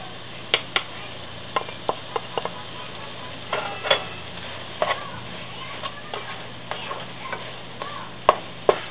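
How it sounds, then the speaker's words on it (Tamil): Egg and green beans stir-fried with turmeric and chili powder in a pan over medium heat, a steady soft sizzle broken by irregular sharp clicks and taps of a spatula against the pan, close up with no talking. "ஒரு நிமிஷம் நல்லா மீடியம் ஹீட்டில் வச்சு வதக்கிட்டு இறக்கிடுங்க."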